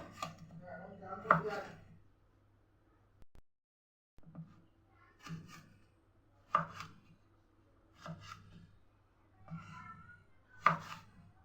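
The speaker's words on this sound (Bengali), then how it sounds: "বেগুনটাকেও এরকম লম্বা লম্বা ছোট ছোট করে কেটে নেব" A knife slicing eggplant into long thin strips on a board, quiet separate cuts in a loose rhythm of five or six strokes, with pauses between them and a brief moment of silence.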